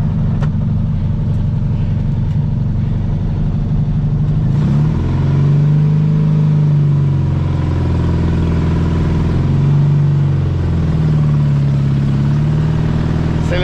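A trail-modified VW Fusca (Beetle) air-cooled engine runs loud and close, droning steadily before revving up and down in rising and falling swells, with no voices.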